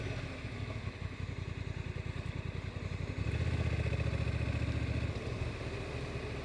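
A Honda NT1100 motorcycle ridden in D mode gives a steady, throbbing engine note with a rapid pulse, growing louder and fuller partway through as the throttle opens, with no talk.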